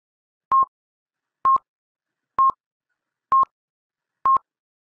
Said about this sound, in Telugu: మేహుల్ బ్యాంకు కాల్ చేసి ఇన్ఫార్మ్ చేస్తాడు